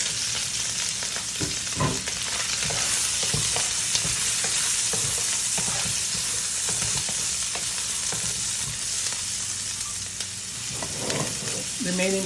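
Sausage and onion stir-fry in a hot pan for pancit bihon, a constant bright sizzle punctuated by repeated scraping and clattering strokes of a utensil against the pan, close and steady throughout with no voices.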